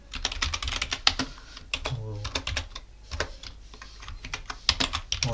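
Rapid clicking keystrokes on a computer keyboard while a terminal command is typed during an Arch Linux install, a close, busy run of taps with brief pauses and a faint voice under it.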